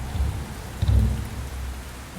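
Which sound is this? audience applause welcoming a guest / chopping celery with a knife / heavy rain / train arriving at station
heavy rain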